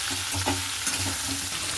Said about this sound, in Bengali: এই যে হলুদ দিয়ে দিলাম আর এটা ভালো করে ভেজে নিই মানে ভাজতে থাকি